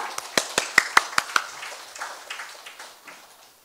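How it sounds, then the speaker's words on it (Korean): Sparse clapping from an audience at a university mentoring results-sharing event, as a mentor is welcomed: about seven distinct, fairly close claps in quick succession that then thin out into faint scattered noise. "뜨거운 박수로 맞아줄까요?"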